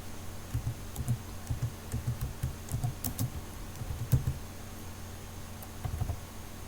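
Quick bursts of typing on a computer keyboard while entering text into a Facebook business page, clustered keystrokes in uneven runs with short pauses, close and clear over a faint steady hum.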